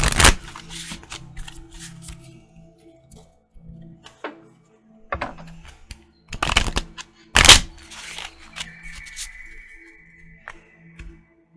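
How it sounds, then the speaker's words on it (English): Romance Angels oracle cards are shuffled in sharp, close riffling bursts separated by quiet pauses, with faint clicks and soft handling in between. "the ones I'm shuffling right now are the Romance Angels Oracles."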